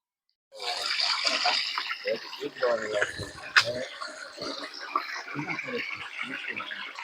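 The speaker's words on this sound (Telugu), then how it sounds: "ఈ కోనలో ఈ కొండరాళ్ళ క్రింద ఇలా నీళ్లు పారుతూ పారుతూ కిందకి వెళ్తుంది" Water runs beneath the boulders of a rocky hill gorge near Udayagiri fort in Andhra Pradesh, a steady hiss of flow carried under someone talking throughout.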